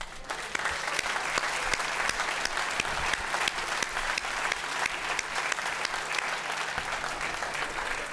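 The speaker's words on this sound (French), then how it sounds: "son courage mérite nos applaudissements" Sustained audience applause fills a ceremony hall for several seconds, dense and steady, the clapping of a large crowd honoring someone's courage at an awards event.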